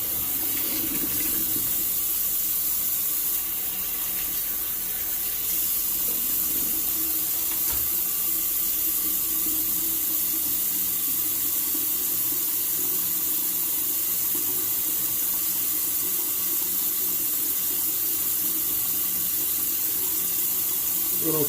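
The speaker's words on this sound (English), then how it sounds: "I'm going to go ahead and rinse off with some cold water now." Cold water running steadily from a bathroom tap for rinsing after a shave, a constant close hiss and splash that continues unbroken throughout.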